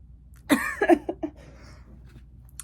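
A few harsh bursts cluster together early, like a stifled cough or throat-clearing from someone with a sore throat, followed by faint quieter sounds and near silence.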